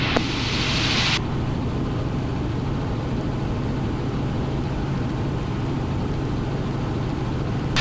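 A helicopter engine runs steadily near a small airfield runway as a loud, constant broadband drone with a low rumble, and a brighter hiss fades out in the first second.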